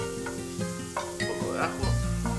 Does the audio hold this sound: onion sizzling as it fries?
yes